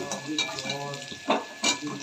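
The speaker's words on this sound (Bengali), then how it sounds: "পেঁয়াজ আর রসুনটা একটু হালকা করে ভেজে নিচ্ছি" Chopped onion and garlic frying in a pan over nigella seeds, a steady close sizzle broken by a few sharper bursts as the pieces are stirred.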